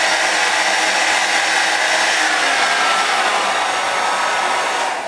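A cheap Kmart travel hair dryer running on its second speed setting gives a loud, steady, broadband whoosh that holds constant for the whole stretch, close to the microphone with no talk over it.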